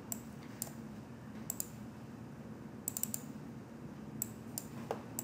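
Computer keyboard keys pressed for Ctrl C and Ctrl V shortcuts, a handful of sharp clicks in small clusters spread across a quiet room tone with no talk.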